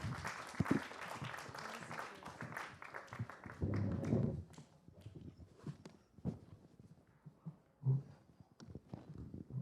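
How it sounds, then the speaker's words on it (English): An audience at a film screening Q&A gives a soft, distant round of applause, scattered claps fading into quiet room noise and a few isolated taps. "Warm round of applause for Dany."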